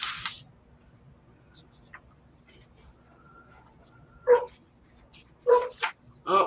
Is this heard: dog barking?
yes